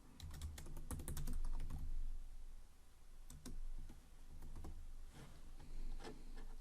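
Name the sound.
typing on a computer keyboard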